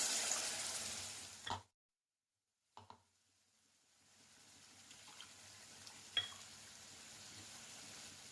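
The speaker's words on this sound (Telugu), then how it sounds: "పోసిన తర్వాత కొద్దిసేపు ఉడకనివ్వాలి." Peas masala curry simmers in a pot after water is added, with a faint bubbling and sizzling hiss. The sound drops out to near silence partway through, then returns as a low, steady simmer with a few soft clinks.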